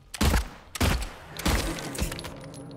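Gunshots in Silent Hill 2 as a creature's legs are targeted: four sharp, punchy shots land roughly half a second apart, each with a brief crackling tail, close and loud with no talking.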